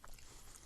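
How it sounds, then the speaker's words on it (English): Pecan pie being bitten and chewed up close: a short run of faint, moist crunches and smacks with no talking. "while you hear me chew and digest pecan pie"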